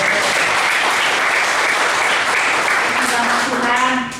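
A church congregation at an evening prayer service bursts into sustained, loud applause and cheering, a dense continuous wall of clapping with voices mixed in, holding steady before easing slightly at the end.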